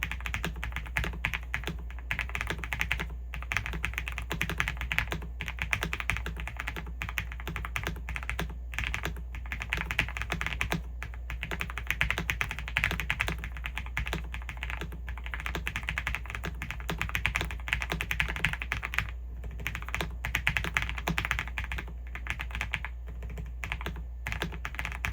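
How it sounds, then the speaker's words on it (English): Steady close typing on a MelGeek O2 wireless mechanical keyboard with linear Sunshine switches, a continuous stream of soft, muted keystrokes at an even pace with no talk. "It's a very satisfying, cozy sounding keyboard."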